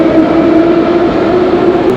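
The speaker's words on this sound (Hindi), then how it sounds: "एक चीज़ मेट्रो में कॉमन मिलेगी, वो है वो शोर।" Loud, steady roar of a Central Asian metro train in motion, a droning mechanical hum with a sustained tonal whine throughout.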